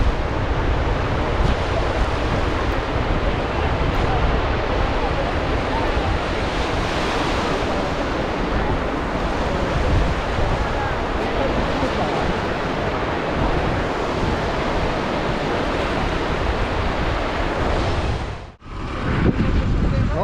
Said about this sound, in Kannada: ಇಲ್ಲಿ ಸೌಂಡ್ ಸಮುದ್ರದಿಂದ ಬರ್ತಾವಲ್ಲ ಅಲೆಗಳ ಸೌಂಡ